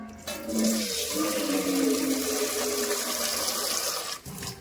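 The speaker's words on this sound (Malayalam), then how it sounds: "നമ്മൾ വെള്ളം ഒഴിച്ച് കഴുകി നമ്മൾ കുറ്റിക്കളയും" Water is poured over cleaned kilimeen fish during washing, a continuous rushing splash that runs steadily for several seconds and then cuts off abruptly near the end.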